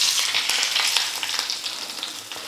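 Mustard seeds and curry leaves sizzle loudly in hot oil as a tempering for onion-peanut chutney, a dense bright crackle with frequent small pops, close and alone.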